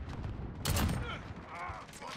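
A single Kar98K bolt-action rifle shot in a video game, a sharp, loud crack with a brief rumbling tail, followed by faint mechanical clicks, with game ambience and voices underneath.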